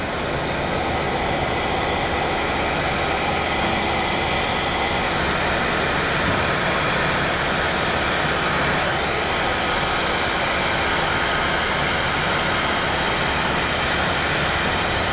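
A heat gun blows hot air over a cut car wiring harness, a loud, steady, close rushing roar with a faint whine that holds unbroken throughout.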